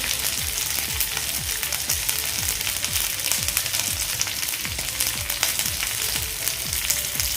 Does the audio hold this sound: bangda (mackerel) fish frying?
yes